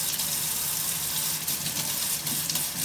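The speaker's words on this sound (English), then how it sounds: "Warm water, the hotter the better, to activate the yeast." Warm water pours steadily from a tap or container onto dry yeast in a bottle for a home science experiment, a continuous splashing gush lasting the whole moment with no talk.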